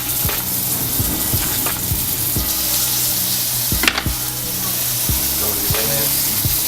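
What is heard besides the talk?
plantain pieces frying in a frying pan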